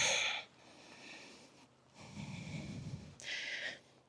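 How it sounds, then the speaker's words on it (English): Breaths drawn during a vinyasa yoga flow, close and soft: a sharp nasal inhale, a long airy exhale, then a second full inhale and a brief sniff, slow and unhurried with no talk. "Couple of breaths."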